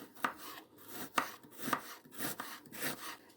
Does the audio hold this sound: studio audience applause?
no